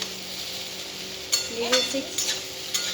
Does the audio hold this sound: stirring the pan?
yes